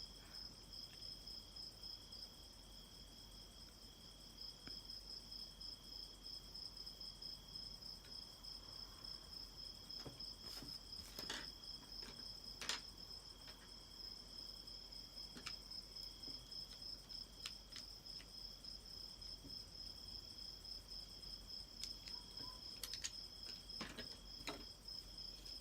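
Crickets chirp continuously at night, a steady high-pitched trill from several insects with scattered faint clicks, fairly quiet and without voices.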